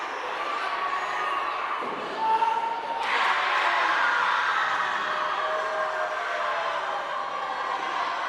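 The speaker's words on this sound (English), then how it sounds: "Boos and then cheers." A wrestling event crowd makes a broad, distant roar that swells suddenly into louder, sustained cheering and booing.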